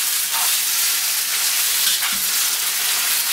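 Pad thai noodles with egg being stirred in an oily frying pan, a loud steady sizzle and hiss close up throughout, with faint scraping as the food is moved, no talking.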